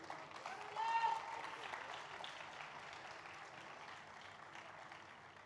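An audience at a Christmas celebration event claps to welcome a bishop, a swell of applause that rises near the start and then lingers, fainter and diffuse, amid room noise.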